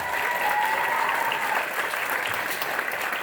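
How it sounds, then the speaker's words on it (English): Audience applause after an honor band at a middle school spring concert, a steady crowd of many hands clapping evenly throughout, moderately loud in a large room. "Please give them a round of applause."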